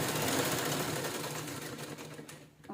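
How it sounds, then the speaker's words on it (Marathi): A sewing machine stitches the neckline of a velvet blouse, a fast even mechanical whirr running close and steady, slowing and stopping near the end. "हा बघा गळा आपण स्टिच करून घेतो"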